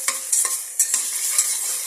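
Onions with dried fish stirred in a frying pan, close scraping strokes of a spatula about every half second over a light sizzle.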